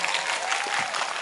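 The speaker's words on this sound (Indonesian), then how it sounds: "Lumayan, tepuk tangan, tepuk tangan." Audience applause at a village religious gathering in Karangsoko, Trenggalek: dense, steady clapping from a crowd, close and moderately loud, lasting about a second.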